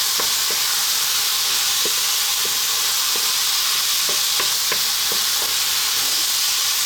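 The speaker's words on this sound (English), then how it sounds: "To that we're going to add fresh chili. Give this a little mix." Spices including chili, turmeric, coriander and cumin frying with fresh chili in a pan for a spinach potato curry, a loud hissing sizzle throughout with light, regular scrapes and taps of a spoon mixing underneath.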